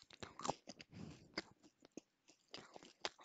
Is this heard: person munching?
yes